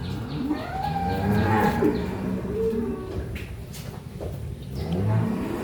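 A farm cow lets out long, loud, close moos that rise and fall, repeating across the few seconds over faint outdoor background noise.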